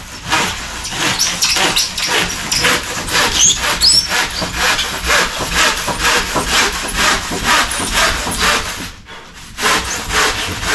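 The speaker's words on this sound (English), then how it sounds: "Taking the handsaw. I want to be looking down the handsaw that it's not tilted or angled in any way." Handsaw cutting through insulation with a steady back-and-forth rasp, strokes coming at a quick even rhythm, loud and close, with a short pause near the end before the sawing picks up again.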